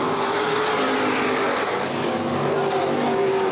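Open-wheel modified race cars roar around the oval at Baer Field Speedway, a dense, continuous engine drone from several cars at once, loud and unbroken, with no voices over it.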